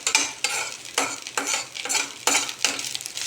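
Coriander leaves sautéing in a hot pan, with rhythmic stirring strokes scraping through roughly every half second over a continuous sizzle, close and fairly loud, no voices.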